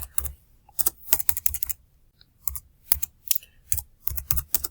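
Keys clacking on a computer keyboard in short irregular bursts with brief pauses, close and clear, while a simple story prompt is typed into Google Gemini.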